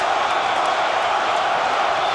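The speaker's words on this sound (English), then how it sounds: "The crowd is chanting between rounds." Boxing arena crowd between rounds of the Evander Holyfield versus George Foreman fight, a dense, steady roar of many voices chanting and cheering without letup.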